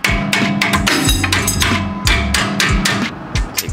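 A hammer strikes metal repeatedly during a lowering spring install on an Audi B9 S4/S5 suspension, loud, close, ringing blows in an uneven rhythm with a few quicker taps between.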